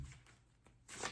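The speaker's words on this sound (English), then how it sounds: "Let me just shuffle these right quick." A deck of playing cards being shuffled by hand, a few soft riffles and flutters near the start, then a louder, brighter burst of riffling toward the end, close and without talk.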